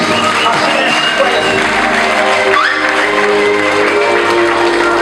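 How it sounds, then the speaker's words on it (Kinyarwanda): A church congregation applauds and cheers for Jesus, a dense and steady wash of clapping with shouts and whoops running the whole time, loud and close, with voices mixed through it. "ukomere Yesu amashyi menshi"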